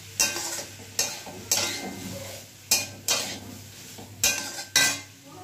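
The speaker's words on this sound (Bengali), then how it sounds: "সব দিয়ে একটু ভালো করে মিশিয়ে নেব। লো ফ্লেমে করছি কিন্তু আমি এটা।" A utensil stirs and scrapes chicken and spices around a pan over low flame, with about eight separate scraping strokes over a soft sizzle, close and fairly quiet.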